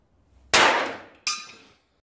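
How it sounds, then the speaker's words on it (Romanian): A hammer strikes twice, about three-quarters of a second apart, each a loud, sharp crack that fades over half a second, like a small homemade screw-bolt banger going off. No one talks. "Uite cu ciocanul."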